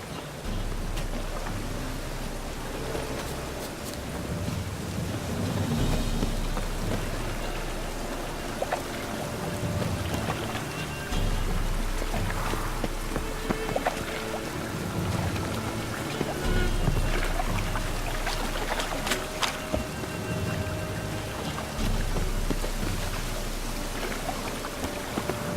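Steady rain falls over a town in Witcher 3: Wild Hunt, a constant soft wash of patter and dripping water with a low rumble beneath, even and unbroken throughout.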